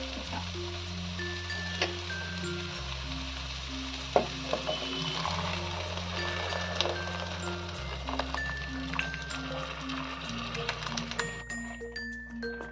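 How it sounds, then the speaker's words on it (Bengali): Boiled dal poured into a pot of cooked winter vegetables and spinach and stirred together, giving a steady close sizzle with soft scraping and stirring throughout, under background music. "এরপর আমি এর মধ্যে আমার সেদ্ধ ডালটাকে ঢেলে দিই"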